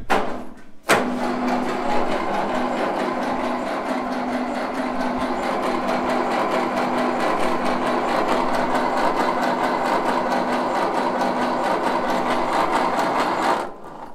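A 1956 Ferguson TVO 20 tractor fires up after eight years idle and settles into a loud, steady, close-up run. It chugs evenly for about thirteen seconds, then cuts off abruptly near the end.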